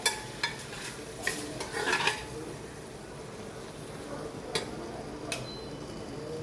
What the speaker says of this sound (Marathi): 1 चमचा धना पावडर, 1 चमचा गरम मसाला. तो परतून घेऊया चांगला.